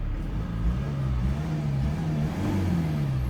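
A Mercedes C220 W204 diesel engine revving after an injector calibration fix, a smooth rising and falling drone heard up close, with no voices.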